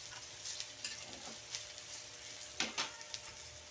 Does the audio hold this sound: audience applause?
no